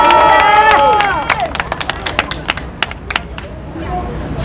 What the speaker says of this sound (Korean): 맞으시면 박수 한번 크게 쳐주시죠.